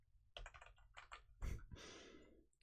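Keystrokes on a computer keyboard while hunting for the F3 key, quiet and close: a short burst of several taps, a pause, another cluster, then a louder thump and a longer rustling press.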